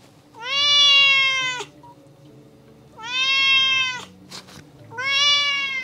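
An angry cat lets out three long, loud, drawn-out meows close by, each lasting over a second with pauses between, and a brief rustle in one gap.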